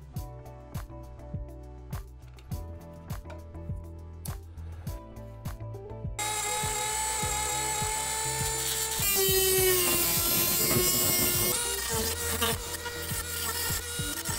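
A power tool cuts holes in a telescope focuser mounting bracket: first a run of rhythmic rasping strokes, then a loud, continuous high-pitched whining cut that rises and holds close to the microphone.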